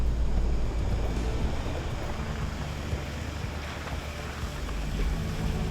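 A Ranger off-road vehicle drives through deepening creek water in the Kimberley. Water churns and splashes continuously over a low engine rumble, with gusts of wind noise on the microphone.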